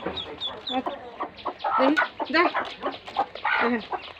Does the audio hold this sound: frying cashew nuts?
no